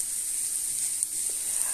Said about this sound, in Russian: здесь перчик зеленый и лук обжариваются